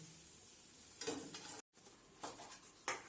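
Malai kofta balls sizzle in hot oil, a steady bubbling hiss with a few brief swells of stirring and pan clatter, cut by one short silent gap.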